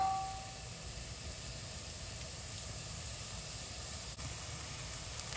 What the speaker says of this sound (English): Gonna let that sizzle for about 2 minutes.